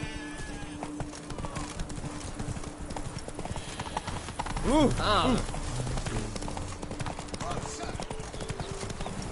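Roach, a horse in a PS4 game, gallops with steady rhythmic clip-clop hoofbeats throughout, joined midway by a loud whinny, while a voice speaks briefly over the game sound.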